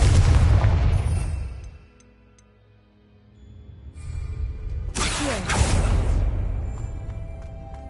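Confringo blasting curse explosions in Hogwarts Legacy, a loud boom fading off, then a second sharp blast around the middle followed by a rumbling tail, no speech.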